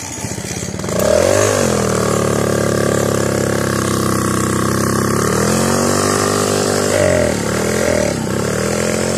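A moped with a choking carburetor revs loudly up close, its engine note rising and falling in uneven surges over a rough, sputtering idle.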